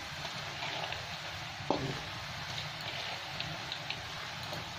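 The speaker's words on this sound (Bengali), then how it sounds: "ছোলার ডালটাও লাউয়ের সাথে ভেজে নেবো আমি।" Chana dal frying with bottle gourd and spices hisses in a steady, even sizzle, with a brief clink of a utensil partway through and no talking.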